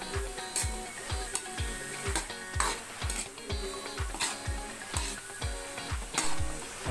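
Ox tripe sautéing in a pan while being stirred, a steady crackling sizzle with regular rhythmic scraping strokes of a utensil roughly twice per second, close and continuous.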